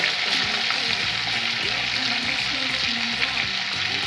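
Rump steak sizzles steadily in a hot pan with rosemary and garlic. The frying hiss stays loud and constant, with faint clinks now and then underneath.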